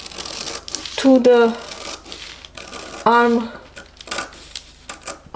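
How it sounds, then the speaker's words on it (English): Scissors cut through a paper sewing pattern along a stitch line, making crisp crinkling snips in two short bursts while someone talks quietly between them. "from the inside I'm going to cut on line 1"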